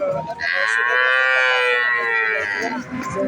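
A dairy cow at the Alamdanga livestock market gives one long, loud, close moo lasting about two seconds, with faint crowd noise around it.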